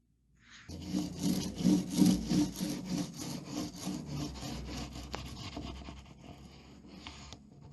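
A paint roller rolls paint onto the wall behind a radiator during first-coat work on a staircase, giving close, steady, rhythmic rasping strokes that start loud and settle into an even back-and-forth rub.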